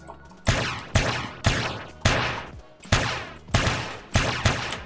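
Gunfire in the multiplayer game GTA SAMP, seven loud booming shots fired at a steady, roughly evenly spaced rhythm, each with a short decaying tail.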